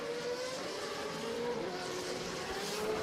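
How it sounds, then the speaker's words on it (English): World Series by Renault single-seater race cars on the formation lap at the Jerez de la Frontera circuit make a steady, distant engine drone that stays even and faint throughout. "Cars on the final formation lap here at Jerez de la Frontera"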